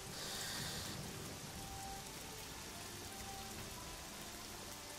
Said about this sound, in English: also it's raining.